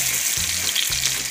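Chunks of pork and beef drop into a hot pan with browning garlic, a loud steady sizzle and hiss throughout with a few low thuds as pieces land, close up, no talking.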